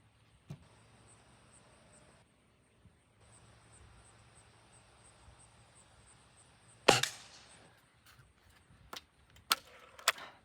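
A single sharp crack from a Beeman 1022 .22 caliber air rifle firing a pellet, close and brief against a quiet outdoor background, followed by a few faint clicks.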